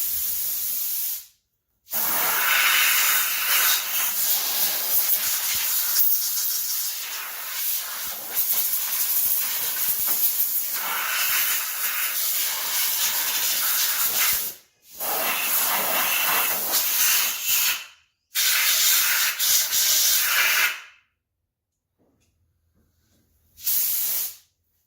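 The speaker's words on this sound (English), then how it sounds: "we got her all sprayed out and didn't do too bad" Pressure-sprayed water hisses against a dusty Polaris RZR 900s side-by-side, loud, close, steady bursts lasting several seconds each, broken by short silent pauses between sprays.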